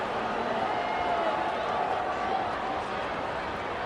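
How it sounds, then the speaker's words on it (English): A rugby league video game crowd roars steadily at Mount Smart for the home side, a dense sustained wash of cheering and noise with a commentator-like voice running underneath. "the home crowd are going absolutely nuts"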